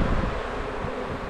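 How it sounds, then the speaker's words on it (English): Honeybees in an agitated, active hive buzz loudly and continuously up close, a dense droning hum with no talk. "only now these bees are really kicking off"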